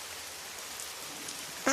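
Steady rain hisses for nearly two seconds, soft and even with scattered drops, ending in a sudden louder burst of noise.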